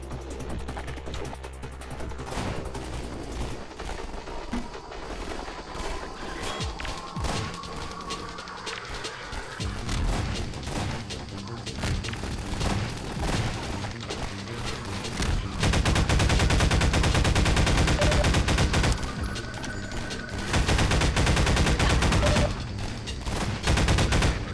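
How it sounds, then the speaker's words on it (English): Shotgun blasts ring out in a Half-Life 2 Map Labs custom level, dense loud game gunfire layered over a busy, continuous soundtrack and effects with no talking. "Shotgun hell, yeah, because I gave a lot of them shotguns."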